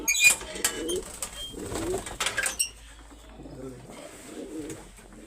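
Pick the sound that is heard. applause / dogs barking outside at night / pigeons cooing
pigeons cooing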